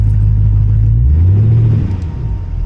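A 1977 Camaro Z28 driving on its first outing, with its front tires rubbing badly: a loud, close, low engine rumble that rises and falls as it accelerates, steady throughout.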